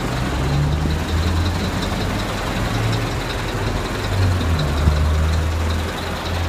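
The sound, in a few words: truck engine idling on a street in Japan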